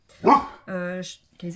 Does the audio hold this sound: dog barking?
yes